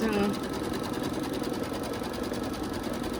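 An embroidery machine stitches around a fabric coaster from a machine-embroidered coaster set, giving a close, steady, fast mechanical hum that stays even throughout.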